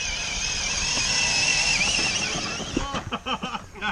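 An FTX Outback Fury and a Traxxas TRX4 RC truck drag race, their electric motors giving a high whining buzz that holds, then breaks into choppy bursts as throttle pulses; voices chatter nearby.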